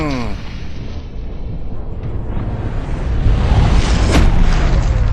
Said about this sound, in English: It's like a little mini explosion on impact.